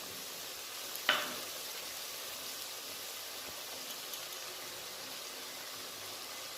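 Cumin, coriander and turmeric powders fry in oil for a lotte fish jhal, giving a steady soft sizzling hiss throughout with one brief louder scrape of stirring near the start.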